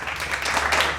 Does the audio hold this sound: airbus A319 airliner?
no